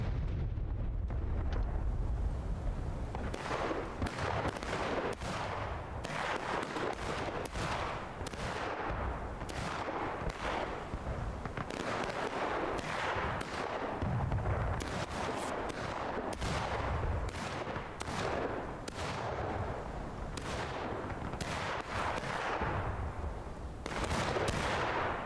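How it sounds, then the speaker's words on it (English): Artillery fire in the Civil War game War of Rights: a dense, sustained barrage of booming cannon shots and crackling volleys, loud and near, repeating irregularly throughout with no talk. "The Arty is in a prime position to fire upon that Union line."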